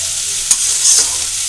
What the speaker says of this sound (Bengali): আমি এবার একটু ভেজে নেব ভালো করে